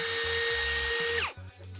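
A Bosch power tool cuts down a part during a vanity basin install, a loud high-pitched motor whine with cutting noise that winds down sharply near the end, followed by brief clatter.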